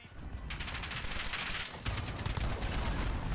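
AK-47 automatic fire in a video game, a fast unbroken stream of loud shots after a brief quieter start, with a slight shift in tone partway through.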